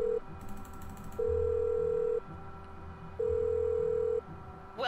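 Touch-tone dialing on a phone in a spy-themed video game: steady tones alternating with two longer tone bursts, a faint mechanical ticking under them, quiet and without speech.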